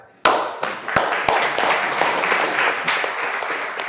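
Audience members at a board meeting break into applause, starting with a few sharp, loud individual claps and settling into steady, moderately loud clapping from a modest crowd.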